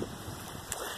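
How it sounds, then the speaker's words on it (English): Strong wind buffets the microphone out on Lake Whatcom in Washington, a steady, loud, rough roar lasting about a second, with no voices. "Of course, it's really windy, as you can probably tell."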